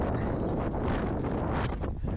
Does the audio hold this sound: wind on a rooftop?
yes